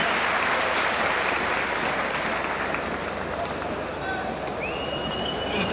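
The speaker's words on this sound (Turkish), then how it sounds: "coşkuyla bir alkış istiyoruz" Loud, sustained applause and cheering from a large crowd at the Kırkpınar oil wrestling festival in Edirne, a dense steady roar of clapping that holds without a break from start to finish.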